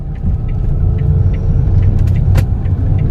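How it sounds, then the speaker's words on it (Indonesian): A Ford Fiesta Trendy 1.4 with a Tiptronic-style automatic transmission hums and rumbles steadily from inside the cabin as it shifts from first to second gear, with a low engine drone throughout and a brief click partway through. "Nah, ini otomatis langsung naik ke gigi 2."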